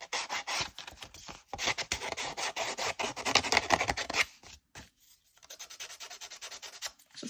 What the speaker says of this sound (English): I'm going to take my sanding stick and I'm going to scuff this up along the edges.